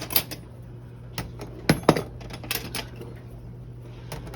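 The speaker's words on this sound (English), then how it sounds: "I'm going to load my dishwasher silverware holder." Metal cutlery is dropped piece by piece into a dishwasher's silverware holder, with sharp clinks and jangles arriving in irregular bursts over a low steady hum from the kitchen.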